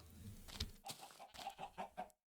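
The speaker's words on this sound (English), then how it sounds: "Did I hear chickens?" Chickens clucking in the Minecraft video game, several short clucks in a quick uneven run, close and fairly quiet, with no talking.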